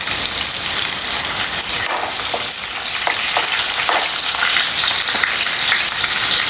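Garlic sizzling loudly in hot oil with cumin and green chili, producing a dense, continuous crackling fry close up with scattered sharper pops and no voices.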